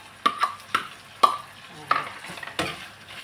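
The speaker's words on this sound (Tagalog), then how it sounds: "Tapos ngayon, ilalagay na natin yung ating liver." Liver frying in unsalted butter in a pan, with stirring scrapes and clinks of a utensil recurring irregularly over a soft, steady sizzle, close by.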